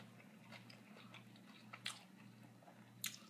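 Someone chewing a bacon-wrapped stuffed onion bomb up close, with soft wet bites and two sharper crunches standing out over a low steady hum.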